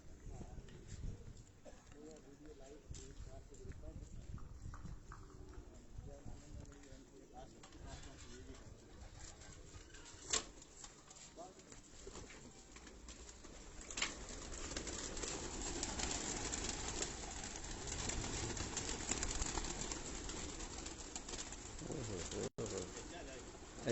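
Breeder pigeons coo faintly from a rooftop across the way, their soft calls mixed into a low outdoor hum while people talk throughout.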